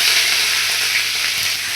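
Asafoetida powder and mustard seeds sizzle in hot oil while tempering for thuthuvalai rasam, a loud, steady, close frying hiss with no talk.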